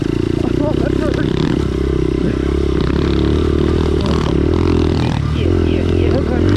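A pit bike engine in a hill climb racing video game drones loudly and steadily with rattling and scraping clatter, under excited talk throughout.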